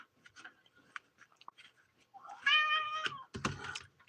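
A cat gives a drawn-out, rising meow up close after a few soft clicks and small mouth noises, then a shorter, rougher cry, with quiet gaps and no talk.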